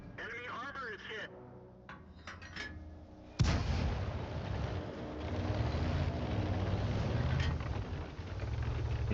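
Tank cannon fire and shell impacts in a tank video game with a Heavy T1 tank: one sharp, loud blast cuts in, then a sustained rumbling engine roar continues, while someone talks over the opening moments.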